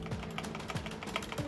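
Rapid keystrokes on a Ziyoulang K3 98-key mechanical keyboard with red linear switches, a dense run of close, fairly loud clacks with a few deeper, heavier key hits mixed in, no voices.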